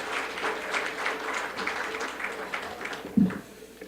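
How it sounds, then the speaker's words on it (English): Audience at a business awards dinner applauds the hotel staff, a steady wash of clapping from many hands in a room that carries on for a few seconds, with one sharper thump near the end. "Let's applaud one more time for them"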